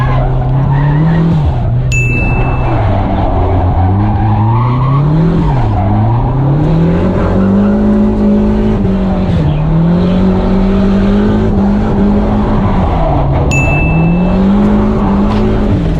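A car drifting through a course at a drift school makes loud, close engine noise that rises and falls as the driver lifts off and reapplies throttle, with long tire squeals throughout.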